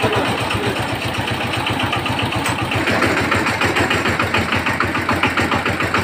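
A small engine, apparently a diesel, runs steadily after a valve tappet clearance adjustment, its even rapid thumping close and loud throughout with no talking.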